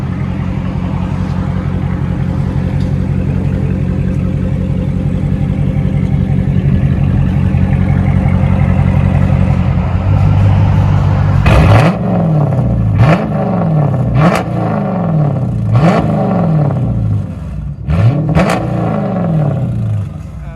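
A Dodge Charger's 5.7L HEMI V8 idles with a loud, deep burble through its exhaust, then fires off a string of sharp, close revs, each one rising and falling quickly.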